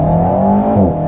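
2021 Alpine A110 accelerating hard from a standstill with a rear-mounted engine: a loud, close engine drone with a steady low-pitched growl that shifts pitch near the end as revs build.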